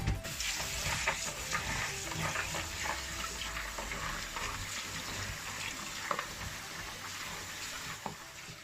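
Soaked beans for akara being washed by hand in a bowl of water: a steady, close, continuous swishing and sloshing with a few sharper splashes near the end, no voices.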